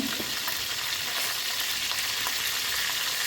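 Steady, loud sizzling of leaves frying in hot oil, a continuous crackling hiss with small pops throughout and no talking.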